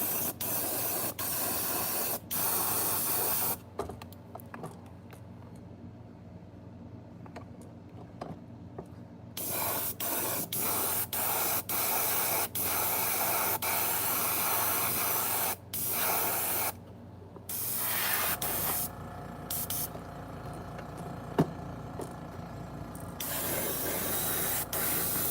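Airbrush spraying paint onto fishing lures, a steady close hiss broken by repeated short pauses and bursts as the trigger is released and pressed, with small clicks between sprays.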